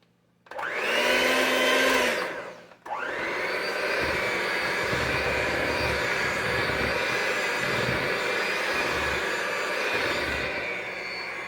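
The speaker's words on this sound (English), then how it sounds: "Put about a third of it in there, and we're going to mix that." An electric mixer beats pound cake batter as a third of the flour is added, a loud steady whirring drone that starts, pauses briefly, then runs continuously close by without talk.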